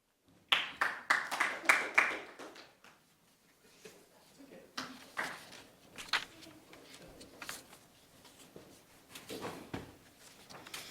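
Clapping hands at a public meeting, a brief burst of applause followed by scattered claps and shuffling, fairly faint, with voices talking in the room.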